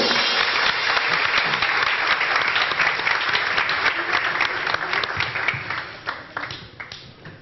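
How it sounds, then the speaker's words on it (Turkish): Studio audience at a Turkish youth TV show breaks into sustained, dense applause for champions, loud and continuous throughout, thinning slightly toward the end. "Şampiyonlara bir alkış daha."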